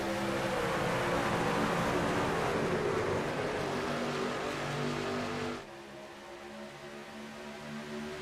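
Race trucks accelerating at Atlanta in the iRacing video game, a loud, steady engine roar with rising pitch that drops off abruptly partway through, then a quieter engine drone continues.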